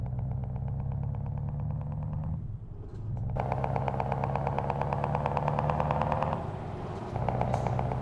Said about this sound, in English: the engine is a V8, but that mod sound, it is from a open pipe